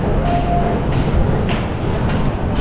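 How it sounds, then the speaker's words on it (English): Loud rumbling of a Glasgow Subway train, a dense low roar with faint rattling and squeals, no voices. "we got off the subway"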